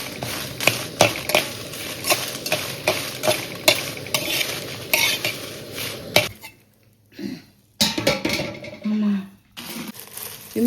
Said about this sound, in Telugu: ఆయిల్ లేకుండా వేపుకోవాలి.